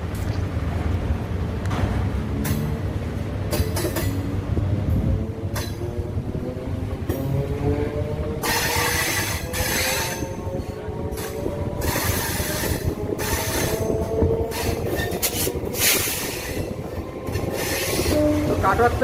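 A Katwa–Ahmedpur MEMU train runs near Ambalgram in Purba Bardhaman, with a steady loud rumble of wheels on rails and recurring metallic squeals and whines rising over the continuous clatter. No one speaks.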